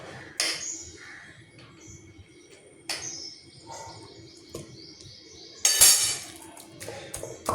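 Tomatoes and spices being pounded for chutney in a mortar and pestle, with sharp intermittent knocks and clinks spaced a second or more apart, close and moderately loud.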